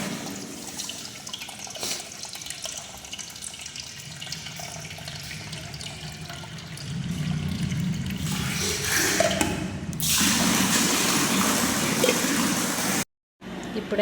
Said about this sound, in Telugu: అయితే నీళ్ళు పట్టుకోవాలి.